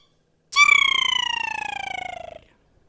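A person whistles an imitation of a woodland kingfisher's call outdoors in summer. The note is loud and close, a single sharp onset followed by a fast, even trill that slowly falls in pitch and fades after about two seconds.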